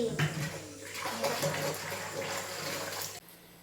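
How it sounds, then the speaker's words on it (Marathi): Hot water running and splashing from a jar into a container, steady and close, stopping abruptly near the end. "जार देऊन आम्ही मस्त पाणी काढतो गरम पाणी"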